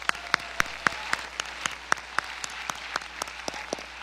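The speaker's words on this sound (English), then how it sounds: "Let's give them a round of applause" Applause from an audience following a Women's History Month alumnae panel, heard as a thin, moderate patter of claps with several sharp individual claps standing out in an uneven rhythm.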